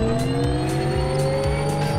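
A car drifting in The Crew Motorfest video game, its engine droning with a steady rising pitch under a sustained tire hiss, loud and close throughout with no talk.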